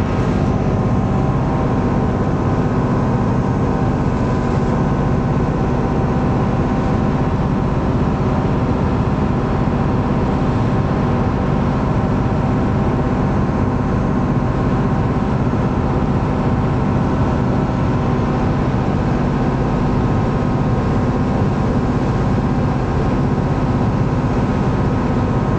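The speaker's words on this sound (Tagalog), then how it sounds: "Maingay yung makina kasi nasa labas tayo." A ferry engine heard from the open outside deck on a trip between Setoda and Mihara, a loud, unbroken, droning rumble with steady hum and no pauses.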